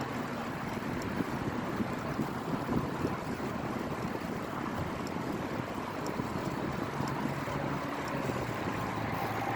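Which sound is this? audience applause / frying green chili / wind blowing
wind blowing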